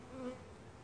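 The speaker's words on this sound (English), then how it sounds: "So now I got a bunch of bees crawling all over me." Honey bees from a newly installed package crawl about, giving a faint, brief insect buzz close by with no talking.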